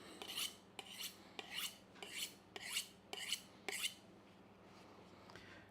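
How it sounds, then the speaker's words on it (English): A knife blade is drawn repeatedly across a sharpener, giving about seven rhythmic rasping strokes close by, then a couple of fainter strokes at the end, with no talking. "Going to give it a quick sharpen."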